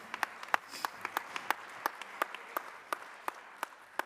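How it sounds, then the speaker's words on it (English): A small group claps for a few seconds, the claps sparse and fairly evenly spaced, heard from a little distance. "We'll give a round of applause for Chef Andy."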